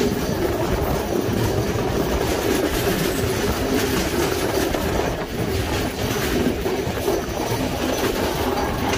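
A train runs along the rails in Sri Lanka near Galle, giving a steady, loud rumble with a faint clickety-clack of the wheels. The noise stays continuous and close throughout, and nobody speaks.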